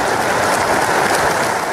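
A loud applause sound effect of dense, steady clapping that fills the whole short stretch with a continuous crackling wash and no pauses.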